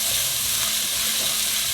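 Osso buco sears in a pan with its drippings, giving a steady, loud, close sizzle and hiss of frying with no pauses.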